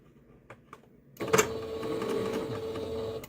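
A sewing machine set to a tiny stitch starts up after a second of near quiet with a couple of soft clicks, then runs in a steady, close mechanical whir to the end.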